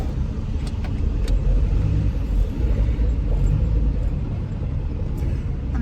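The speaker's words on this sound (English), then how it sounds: "And the traffic this morning is just something else." Busy morning road traffic rumbles steadily, a continuous close wash of car engines and tyre noise with no speech over it.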